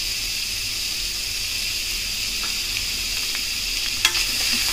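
Chopped onions with cumin seeds and curry leaves fry in hot oil in a pan until golden, giving a steady, close sizzle that holds even throughout, with a couple of faint stirring clicks.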